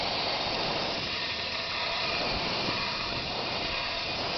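A steady, broadband hiss of steam pours from a steam generator used to melt down beeswax, loud and unbroken throughout with no pauses.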